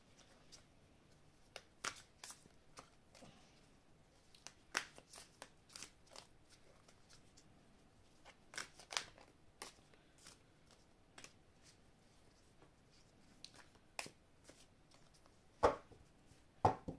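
Union Sacrée tarot cards are handled and shuffled in a quiet room, a sparse series of crisp riffles, flicks and taps scattered irregularly across the stretch, with a louder snap near the end; no speech.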